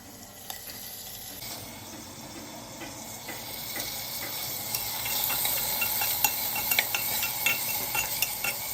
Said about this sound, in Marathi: नंतर वाटाणा तर असं मस्त तेलात भाजून घ्यायचा